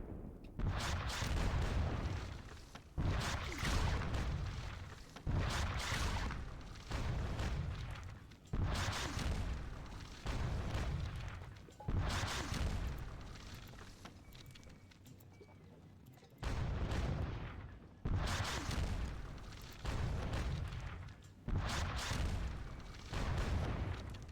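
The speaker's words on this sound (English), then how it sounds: "Keep up the cannon fire" Cannon fire from the Wargame Design Studio Seven Years War game at the Battle of Zorndorf: loud, heavy artillery booms repeat every second or two in a steady barrage, with no voices over them.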